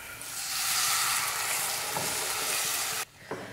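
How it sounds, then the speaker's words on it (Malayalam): Cooked lentils poured into a hot pan of tempered dal curry base burst into a loud, broad sizzle that holds steady for about three seconds, then cuts off suddenly, leaving a brief faint clatter. "ഇനി നമുക്ക് ഇതിലേക്ക് വേവിച്ച് വെച്ച പരിപ്പില്ലേ അത് ഒഴിച്ചു കൊടുക്കാം"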